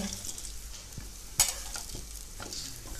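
A veg cutlet coated in breadcrumbs shallow-frying in a pan, with a soft steady sizzle, occasional light scrapes and one brief sharp clink partway through.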